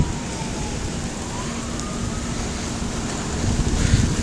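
Steady rain falls outdoors during a thunderstorm, a constant broadband hiss and patter that thickens slightly toward the end, with no talking.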